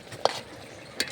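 Lentils and spinach being stirred in a pan, with two brief scraping strokes against a soft background sizzle.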